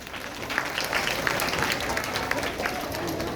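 Loud, steady applause from an audience at a school scholarship and prize-giving ceremony, dense clapping sustained throughout without a break.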